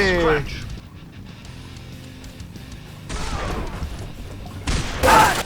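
Shotgun blasts in the motorbike combat game Road Redemption, loud bursts at the start and near the end over engine drone and game noise, with a voice talking through much of it.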